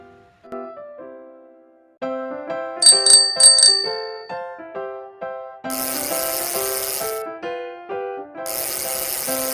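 A bicycle bell rings in a quick burst of about four bright dings over bouncy background music.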